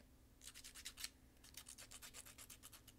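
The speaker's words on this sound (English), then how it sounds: "that's enough sanding for that" Sanding a miniature figure by hand, a quiet series of quick rhythmic rubbing strokes in two bursts with a short pause between, close up and without talk.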